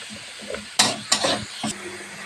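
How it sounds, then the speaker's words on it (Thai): Pork stir-fried with curry paste in a pan: close, loud scraping strokes of a utensil against the pan over a sizzle, with about three distinct stirring bursts. "เนี่ยค่ะเราก็ผัดไป ประมาณหนึ่งนะคะให้หมูสุกนะคะ แล้วก็ เข้ากันดีกับพริกแกงนะคะ"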